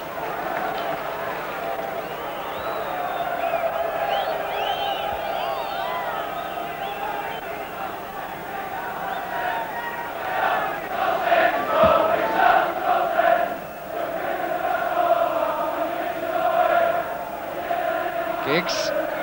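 A large football crowd at a Leeds United versus Manchester United FA Cup match, a steady roaring murmur that swells with rising chants, heard beneath a commentator's continuous talk.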